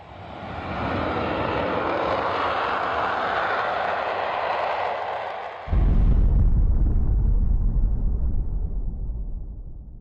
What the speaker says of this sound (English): a fighter jet swoops down and fires a barrage of missiles into the jungle tree line